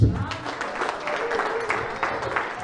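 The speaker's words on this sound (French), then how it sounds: "On acclame la parole." A church congregation applauding: a steady, dense wash of clapping that carries evenly throughout, fairly close and moderately loud.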